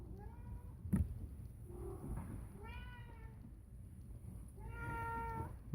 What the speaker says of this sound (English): cat wants to see me.